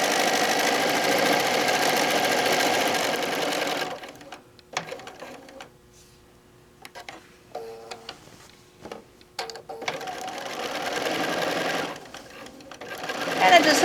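A sewing machine runs steadily while top stitching fabric for a placemat along the edge of the presser foot guide, with a long continuous burst, a quieter pause broken by scattered clicks and handling, then another long run.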